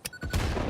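Explosion blowing up yellow mushroom objects in a video game, a short loud blast with a rumbling tail lasting under a second after a few small taps.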